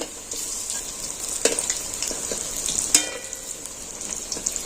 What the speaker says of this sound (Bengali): এগুলো এবার আমি উল্টে পাল্টে লাল করে ভেজে নেব